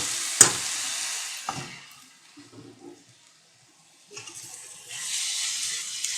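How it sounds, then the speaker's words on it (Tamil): Boiled banana flower stirred and sautéed in a pan for poriyal, giving bursts of broadband sizzle and scraping that open the clip, fade to a quiet lull, then return steadily near the end. "நல்லா வதக்கி விடுங்க."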